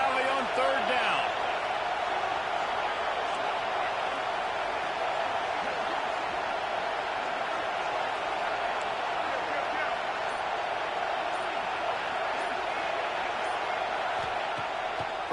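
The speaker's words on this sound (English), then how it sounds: "Here comes the noise from this big crowd in Happy Valley on third down." Stadium crowd noise in an NCAA college football video game, a dense, steady roar from a big crowd on third down that holds level throughout, with a brief thump near the start.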